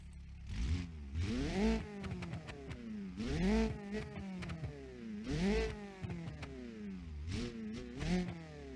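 A tuned JDM-style car with no exhaust and about 10 pounds of boost revs repeatedly in the BeamNG.drive driving game, its engine note rising and falling in several loud, rhythmic sweeps.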